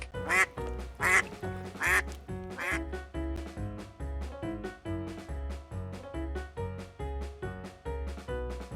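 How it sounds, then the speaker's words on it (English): A duck quacks in several loud, raspy bursts early on, set over a steady, rhythmic backing beat that continues to the end. "Duck."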